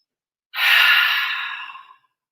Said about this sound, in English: Inhale, shoulders up, exhale, let it out through the mouth